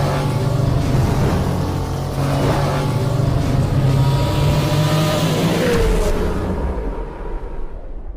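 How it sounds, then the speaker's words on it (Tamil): Used Hyundai Eon car driving fast at about 100 km/h, a loud steady engine drone with a rising rev and road rush heard from inside, fading slightly near the end, with no talking. "வண்டி வந்து பாஞ்சு 100 கிலோமீட்டரில் வண்டி பாஞ்சு போயிட்டு இருக்கு."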